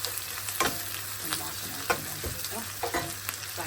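Garlic sizzles steadily in a pan while a utensil scrapes and stirs in repeated sharp strokes over the crackling hiss.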